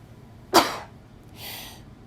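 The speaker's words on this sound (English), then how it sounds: "I swear I never sneeze unless I'm recording something or meditating" A single sharp sneeze bursts out close to the mic, followed by a soft breathy exhale a second later.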